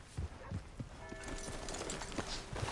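Horse hooves clip-clopping in a steady rhythm at close range, fairly faint, with a brief mechanical ratcheting sound partway through.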